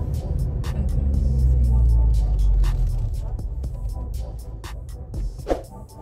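Manual-transmission car driving with steady low engine rumble and road noise throughout, rising slightly mid-clip, with occasional faint talk and small knocks inside the cabin.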